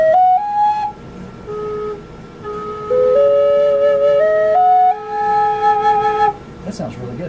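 One side of a wooden Blue Bear drone flute kit being played: a clear, breathy tone stepping through several pitches in short phrases, close and fairly loud, ending with a brief breath noise.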